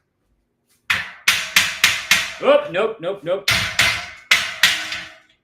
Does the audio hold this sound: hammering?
yes